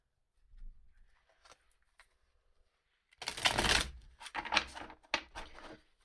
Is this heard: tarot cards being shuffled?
yes